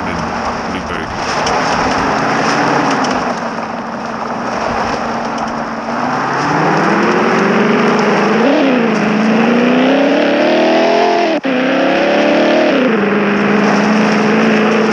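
A sports car engine revs in the MadOut driving game. It drones loud and steady, and its pitch climbs and wavers as the car accelerates, with no break across the whole stretch.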